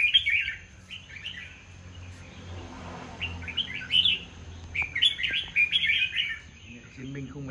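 A caged red-whiskered bulbul gives bursts of sharp, bright chirps and short trills at close range, with quiet background noise between calls.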